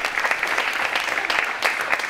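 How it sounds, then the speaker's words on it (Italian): Applause at an anniversary gathering on Capri, a brief burst of steady, close clapping from a modest crowd with no talk over it. "Amelia De Martino, ancora il nostro applauso."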